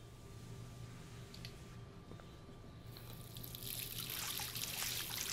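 Shower water running in a dormitory bathroom in Life is Strange, a steady hiss that swells louder and brighter partway through, with no voices.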